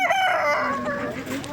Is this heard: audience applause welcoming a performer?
no